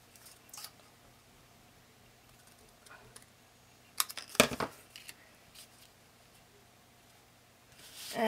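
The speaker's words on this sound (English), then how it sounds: "I'm going to cut this off with some scissors" Scissors snip through paper during scrapbook layout work, a few soft isolated clicks followed by a brief cluster of sharper cuts in the middle, close and quiet against a still room.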